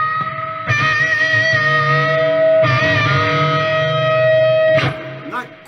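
An electric guitar played through a distortion effect in Reaper rings out in sustained, buzzy chords that hold for about two seconds each, loud and close, with a brief pick noise near the end.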